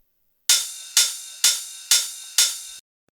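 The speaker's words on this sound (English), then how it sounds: "And two types of cymbals, hi-hats and a ride cymbal, sounds like this" Hi-hat and ride cymbal samples for a house track, five bright shimmering metallic hits in an even pulse about half a second apart, each with a short decay, played alone.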